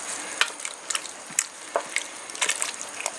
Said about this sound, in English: I'm just going to give that a bit of a stir